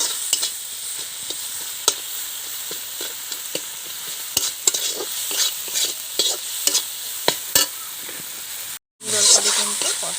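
Spiced singara filling sizzles and fries in a pan while a spoon stirs and scrapes in irregular clicks, steady hiss underneath, close and fairly loud, with a brief gap near the end.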